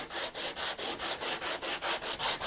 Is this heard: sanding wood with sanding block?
yes